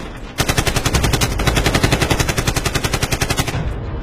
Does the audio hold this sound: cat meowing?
no